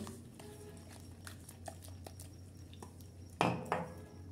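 A spoon clinks and scrapes softly in a bowl while powdered milk is stirred into milk, with two sharper knocks near the end, all faint and close with no talking.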